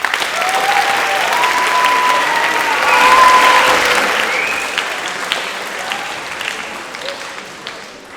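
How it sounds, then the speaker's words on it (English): A school assembly audience applauds steadily for several seconds, loud and dense, with high cheers and voices rising above the clapping before it fades toward the end. "can you give her a round of applause, please?"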